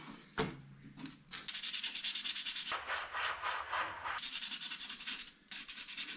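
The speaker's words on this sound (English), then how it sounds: "I've got to do some sanding, get them kind of more sandied up." Steady back-and-forth rasping of 240-grit sandpaper on a surface, loud and close, in continuous strokes with brief pauses, no talking.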